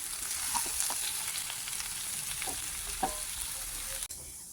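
Jackfruit frying in a wok for a dish with egg, a dense continuous sizzle with scattered pops and light stirring scrapes, close and fairly quiet, ending in a brief knock.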